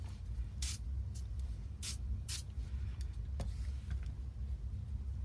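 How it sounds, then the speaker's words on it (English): Several short hissing bursts of aerosol silicone spray into a gun barrel and cylinders, a few quick spurts spaced apart, over a steady low background rumble. "I like to spray silicone spray in there"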